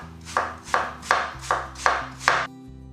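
Six steady knife chops strike a cutting board in an even rhythm as apples are cut, close and crisp, with no talking.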